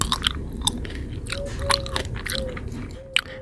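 Seedless Velesz grapes are bitten and chewed close up, giving crisp, wet crunches and juicy squishes in an irregular rhythm over a few seconds, with no talking.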